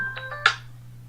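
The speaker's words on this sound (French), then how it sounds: "Le téléphone qui sonne" A toy telephone rings in short electronic bursts: two quick tonal pulses, then a brighter louder ring, alone over a steady low hum.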